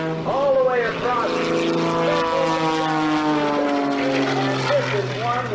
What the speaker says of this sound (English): he's busy making sure this airplane does exactly what he wants it to do